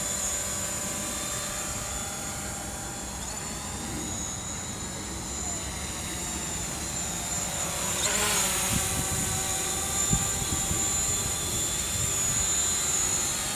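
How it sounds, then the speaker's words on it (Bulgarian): A DJI drone flies indoors or nearby, its steady high-pitched rotor whine holding throughout with faint background murmur, loud and continuous. "Сега снимай дрона."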